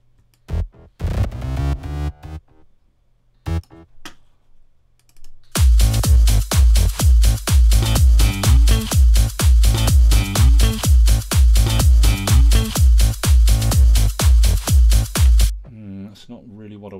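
A Logic Pro X ES2 synth bass line repeats as a steady, punchy pattern of short, loud low notes in an even rhythm, preceded by a few scattered isolated hits and brief silences.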